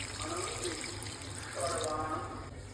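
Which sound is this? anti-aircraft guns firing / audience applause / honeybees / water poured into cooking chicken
water poured into cooking chicken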